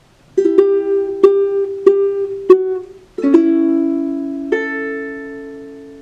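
Ukulele plucked and strummed in a steady rhythm, a few bright chord hits followed by two longer ringing chords, close and clear with no talking.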